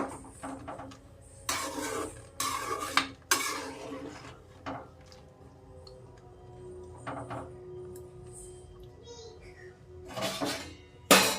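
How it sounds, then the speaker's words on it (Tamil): Maggi noodles stirred in a cooking pot, with scattered metallic scrapes and clinks of the utensil against the pot in short bursts, fairly close and moderately loud over a low steady hum. "நல்லா கிளறி விட்டுக்கலாம்."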